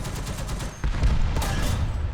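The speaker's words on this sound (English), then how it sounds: "So I'm going to go ahead and shoot out that track." Tank cannon fire in War Thunder, gameplay with heavy booming shots, one strong blast near the middle over a constant rumbling battle background, no talk.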